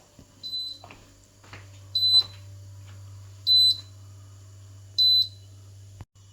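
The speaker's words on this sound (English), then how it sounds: "The lamp lit, this is beeping, and the compressor operates." An Electrolux freezer's alarm gives four short, high-pitched electronic beeps at even intervals over the steady low hum of its running compressor, with a few faint clicks in between.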